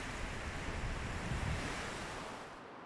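Surf rolls steadily onto the beach at Ipperwash, a continuous broad roar of breaking waves mixed with wind noise that eases slightly near the end.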